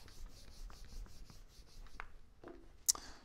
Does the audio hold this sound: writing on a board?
yes